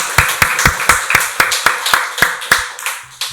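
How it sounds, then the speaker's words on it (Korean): Church congregation clapping together during a Sunday worship service, a slow, regular rhythm of about a dozen sharp, unified claps in the room. "박수로 하나님께 영광 돌리겠습니다."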